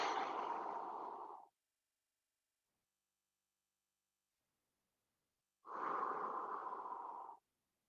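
Two long, deep breaths during a stretching exercise, each a steady airy rush of about a second and a half, separated by several seconds of silence, close and clear.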